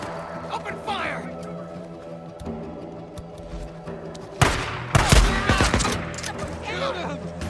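Bursts of gunfire in the video game Days Gone crack out in clustered volleys with shouting voices among them, the firing growing denser and louder toward the end.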